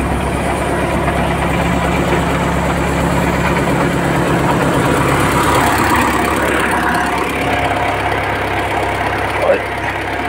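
An LTZ-60AB tractor engine idles steadily while warming up after standing unused, a constant low, knocking rumble close by, with someone talking over it.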